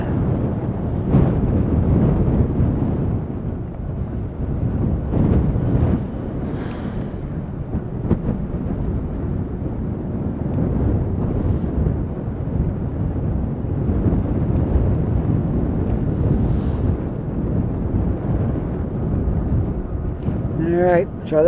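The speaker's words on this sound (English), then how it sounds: "Whoa, the wind is really strong." Strong wind buffets the microphone in a steady, loud roar on the downtown Dartmouth waterfront near a ferry terminal, continuous throughout with gusts, and someone speaks briefly over it.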